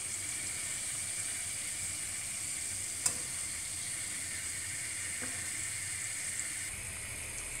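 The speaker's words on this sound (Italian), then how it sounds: "E adesso andiamo a friggere in olio caldo." Cuscinetti di Gesù Bambino, small Apulian Christmas pastries, frying in hot oil, a steady bubbling sizzle heard close and continuous, with a faint tap or two.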